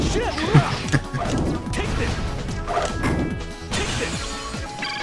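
Glass smashing in the video game Sonic Heroes, with crashes and whacks amid busy game music and effects, several sharp impacts early on, while a voice talks over the action.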